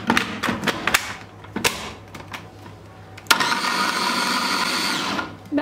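A food chopper whirs steadily as it blends peppers, following a few separate thumps and clatters as pieces are dropped in. The motor sound is close and loud and runs for about two seconds.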